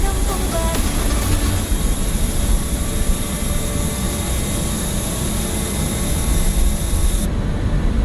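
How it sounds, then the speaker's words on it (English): An aircraft APU runs on the ground in Microsoft Flight Simulator, a loud, steady broadband roar with a high whine that holds throughout and cuts off sharply near the end. "Fox will connect the GPU and just shut down the APU. This is very noisy outside"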